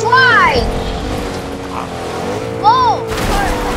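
A car driving in Fortnite, a loud steady engine drone with game sound effects sweeping in and out and a sudden burst of noise near the end.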